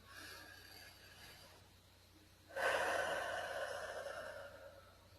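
A person draws one slow, deep breath in through the nose, a soft airy inhale that begins faintly and then swells into a louder, rushing intake lasting a few seconds, close and quiet with no talking.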